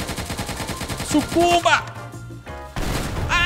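Rapid AK rifle fire in Teardown, a fast rhythmic burst of sharp cracks followed by louder blasts, with a voice shouting over the shooting.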